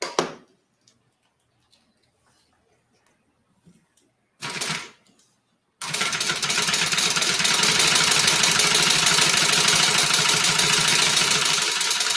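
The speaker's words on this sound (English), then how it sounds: "I'm going to stitch down both sides of that" A sewing machine stitches down the sides of an Italian leather bag, starting after a couple of short bursts and then running steadily and loudly for several seconds.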